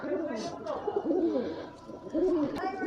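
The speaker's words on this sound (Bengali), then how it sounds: "এই যে পায়রা" Pigeons coo softly in a low, rolling burble, several calls overlapping close by, with a brief sharp click near the end.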